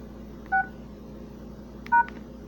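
Two short telephone keypad tones sound one after another with a pause between, clean beeps over a faint low hum while dialing into voicemail.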